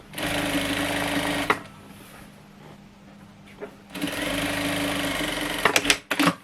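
A sewing machine stitches lace onto a pillowcase in two loud, steady runs of fast mechanical whirring, separated by a quiet pause of a couple of seconds, ending with a few sharp clicks.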